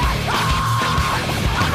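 Intense screamed rock vocals from a song, a loud sustained yelling voice over dense band music, continuous through the short excerpt.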